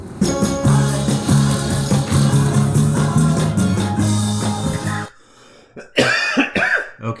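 Sustained musical tones with low harmonics end abruptly, followed by a couple of short, harsh coughing bursts near the end.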